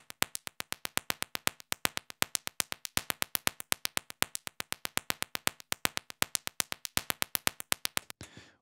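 A sliced REX drum loop, originally at 130 BPM, triggered via MIDI at 120 BPM: a steady, even run of sharp percussive hits filling about eight seconds, close and dry, with no talking.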